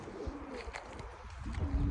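Pigeons coo softly at close range in low, rolling throaty calls, several overlapping phrases against faint background noise.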